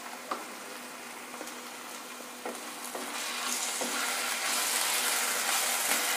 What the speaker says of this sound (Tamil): இஞ்சி பூண்டோட பச்சை வாசனை போடுற அளவுக்கு நல்லா வதக்கணும்.